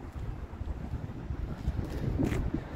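Outdoor wind buffets the microphone beside a 1987 Chevy C10 pickup, a steady low rumble that swells slightly toward the end, with no other clear sounds.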